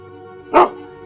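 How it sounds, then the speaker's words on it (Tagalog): A dog gives a single sharp bark at night in a provincial house, loud and close, standing out against a faint steady hum before and after. "Nagkahula na naman yung mga aso."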